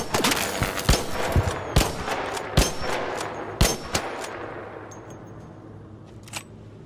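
Gunfire in the video game Arc Raiders: a string of sharp, loud shots and metallic clangs in quick succession, each with a ringing tail, thinning out and fading toward the end.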